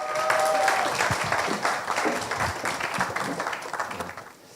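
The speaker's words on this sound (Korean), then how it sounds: "다시 한번 황병일 작가님께 큰 박수로 네," An audience at a book concert applauds to welcome the author, a dense burst of clapping that stays steady, then thins and fades toward the end, with no one talking over it.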